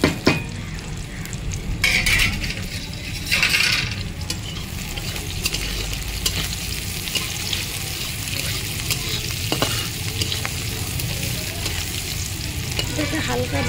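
Chopped onions and green chilies fry in oil in a pan, with a steady close sizzle throughout and scraping clinks of a spatula stirring them, no talk.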